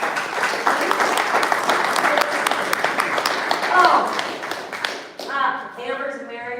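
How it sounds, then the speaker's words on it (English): A church congregation claps for its vision leaders, a dense, steady burst of clapping that fills the room for about five seconds before thinning out, with a voice beginning to speak as it fades. "Let's give them a big round of applause."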